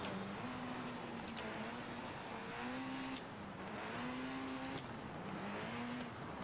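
Racing video game car engine droning loudly and steadily, pitch climbing and dropping as gears change every second or so, with faint squeaks of tires over a constant wash of noise.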